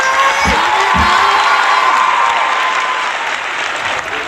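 A large crowd at a Thai political rally claps and cheers loudly and continuously, a dense wash of applause with a couple of low thumps near the start.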